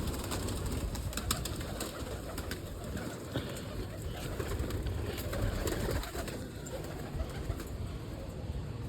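Pigeons coo softly amid a busy outdoor background with occasional sharp clicks, rustling, and a few brief flutters.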